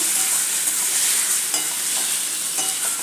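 Boiled mutton stirred into masala in a hot pan for Kolhapuri mutton fry, giving a steady close sizzle with soft scraping accents throughout.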